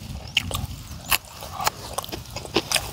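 Someone bites into a fresh chili pepper during a homestyle Thai meal, giving several sharp close crunches and snaps with quiet chewing between them.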